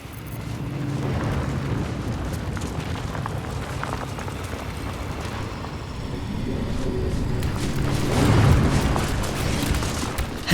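Heavy cannon fire from a tower in Baldur's Gate 3, a sustained rumbling barrage of booms with a louder burst near the end, dense and continuous with no talk.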